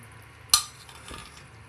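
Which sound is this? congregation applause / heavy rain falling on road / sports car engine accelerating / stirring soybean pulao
stirring soybean pulao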